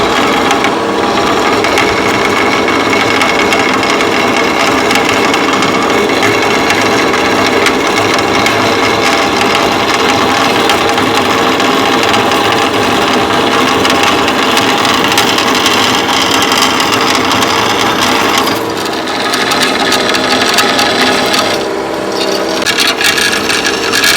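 A power tool cuts through a broken suspension part on a 2018 Yamaha Sidewinder snowmobile, giving a loud, steady grinding rasp that runs unbroken with only a brief dip near the end.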